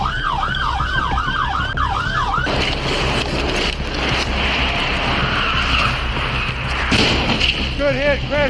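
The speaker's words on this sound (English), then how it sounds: "The violent crash left both vehicles completely mangled" A high-speed police chase at night is heard from a dashcam. A loud wailing siren opens, then a harsh, sustained roar of skidding tires fills several seconds, and a siren returns faintly at the close.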